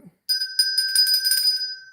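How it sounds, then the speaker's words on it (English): A bell sound effect rings on request during a livestream, a bright metallic chime that comes in sharply, shimmers with repeated strikes for about a second and a half, then fades, with no talk over it. "can I have a bell, please, dear?"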